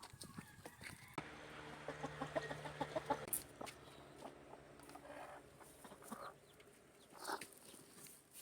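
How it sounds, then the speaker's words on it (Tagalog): A mother hen on a farm clucks softly near newly hatched chicks, with faint bird sounds and low background noise; the calls are quiet and somewhat distant. "Lagi nang bumababa ang inahin, kaya dapat ay ibaba na rin ang sisiw."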